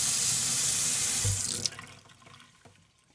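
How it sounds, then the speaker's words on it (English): A house sink faucet running at full water pressure after a smart automatic shut-off valve restored supply, a loud steady gush that tapers off as the tap closes, leaving faint drips and clicks. "Go back over to the sink. Turn on. We have full water pressure again."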